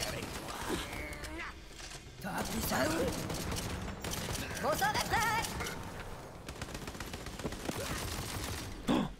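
Gunshots in the video game Tiny Tina's Wonderlands, scattered sharp cracks and mechanical clatter mixed with creature screeches and game effects, with a voice talking throughout.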